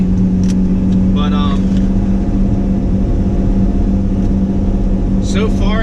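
Supercharged 2010-2015 Chevrolet Camaro SS V8 idling, a steady low engine drone with a humming tone, loud and constant throughout, with brief higher-pitched sounds over it.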